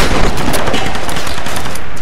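Gunfire in the video game Tomb Raider, a loud rapid stream of shots blurring into sustained machine-gun-like fire, steady and close with no voices.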